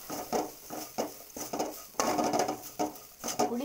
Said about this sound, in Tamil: வெள்ளைப்பூடு தேங்காய் எல்லாம் போட்டு இதில் எல்லாம் ஒன்றா போட்டு நல்லா வறுத்து